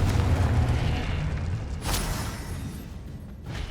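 A fiery Confringo spell blast in the video game Hogwarts Legacy booms low and heavy, with a second burst flaring near the two-second mark, all rolling under a continuous rumbling game soundscape with no talk.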